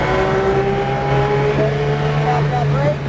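Porsche 911 GT3 RS engine on the Sonoma race circuit revs loudly and steadily as the throttle is applied, a close, sustained droning howl with rising tones near the end.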